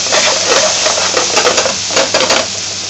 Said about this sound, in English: Now he's putting the chopped onions and green pepper in.